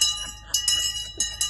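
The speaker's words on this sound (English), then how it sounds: "They ring the bell to say starting." A bell rings to open bidding at a truck and lorry auction, with several sharp metallic strikes in quick succession, fairly close and clear over a quiet outdoor background.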